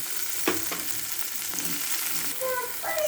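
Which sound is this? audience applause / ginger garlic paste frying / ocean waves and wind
ginger garlic paste frying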